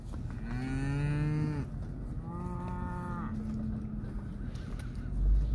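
Two long, deep moos from black cows nearby, one after another with a short gap, over faint outdoor background noise.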